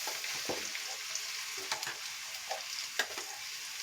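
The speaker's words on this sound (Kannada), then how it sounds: "ಈಗ ಈ ಹಲಸಿನ ಬೀಜ ಮಿಕ್ಸಿ ಮಾಡಿದ್ದನ್ನು ಅದಕ್ಕೆ ಹಾಕಬೇಕು." Ground jackfruit seed paste being stirred into fried onions in a pan for chutney, a soft continuous sizzle broken by scraping spatula strokes and a few sharper clacks, with no talking.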